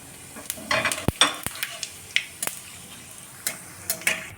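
Whole cumin seeds crackling in hot oil, with sharp scattered pops and spits over a soft sizzle, close and fairly loud, irregular in rhythm.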